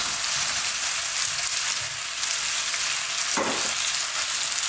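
Cauliflower added to a hot pan for a Pakistani-style egg and cauliflower dish fries with a steady, loud broadband sizzle throughout, with a brief stirring or clatter burst near the end and no talking.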